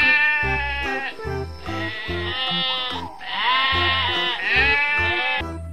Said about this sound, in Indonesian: Wow, ternyata ini domba,